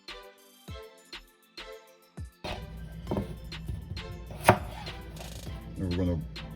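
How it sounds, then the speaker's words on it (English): A knife cuts potatoes into wedges on a cutting board, sparse single chops at first and then a denser run of cuts and scrapes, close and clear. "for the potato, we're going to cut them in wedges"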